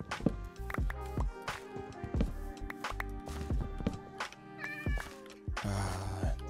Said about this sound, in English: The sound of kitty cats in the morning.